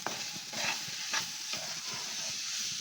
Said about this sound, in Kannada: ಈಗ ನಾನೇನು ರುಬ್ಬಿದ್ನಲ್ಲ ಮಾವಿನ ಹಣ್ಣು ಅದೆಲ್ಲ ಹಾಕ್ಕೊಂಬಿಟ್ಟಿದ್ದೀನಿ ಇದ್ರ ಜೊತೆಗೆಲ್ಲ ಫ್ರೈ ಮಾಡ್ತೀನಿ